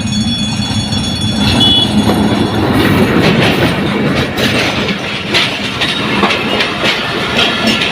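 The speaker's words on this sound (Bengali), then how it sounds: "রেল লাইনের জন্য আটকা পড়ছি রেল যেতেছে" A train rumbles steadily past nearby, with a continuous low roar and faint rhythmic clatter of wheels on track throughout.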